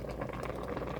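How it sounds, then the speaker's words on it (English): Soft, continuous sizzling and bubbling from homemade soup cooking in a pot, steady and fairly quiet throughout. "you may hear it sizzling for a minute"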